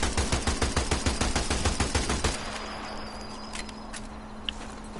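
Rapid automatic fire from an FNAB-43 submachine gun in Sniper Elite 4, a loud rattling burst of evenly spaced shots lasting over two seconds, then cutting off to leave a faint ringing tail and quiet ambience.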